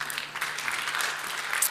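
Steady applause from a church congregation, a continuous patter of clapping hands filling the room for a couple of seconds.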